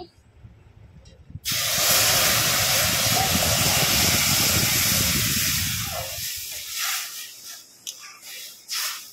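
Milk is poured into hot fried semolina in a pan and sets off a sudden loud, hissing burst of sizzle and steam that gradually dies down into softer bubbling and crackling.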